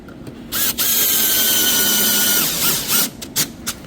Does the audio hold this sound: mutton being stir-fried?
no